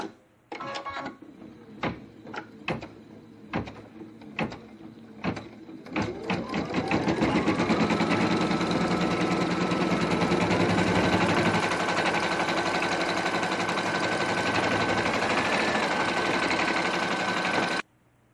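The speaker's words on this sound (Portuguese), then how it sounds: "Aí nós vamos dar o comando, ele vai bordar a borda de cima primeiro aqui." An embroidery machine stitches the top border of a hoop-mounted piece, a few separate clicks and knocks giving way to a fast, steady mechanical chatter that runs on close and loud until it stops abruptly.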